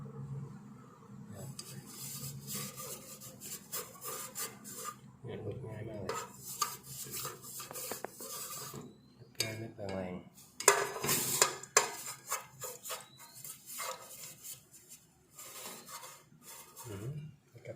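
Hardened rice stuck to a pot is scrubbed off with dish soap, giving intermittent scraping, rubbing and clattering of metal cookware in uneven bursts at close range, with occasional louder knocks.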